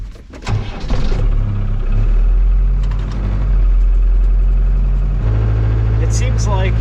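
A Land Rover Defender 110 running on a lithium battery cranks briefly and catches, then settles into a loud, steady idle close by, with a faint whirring near the end.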